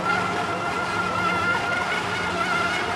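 An RC Miss Geico sponson boat on a stock ESC and motor with 4S power and a 642 prop runs at speed, giving a steady high electric whine with water hiss for three seconds.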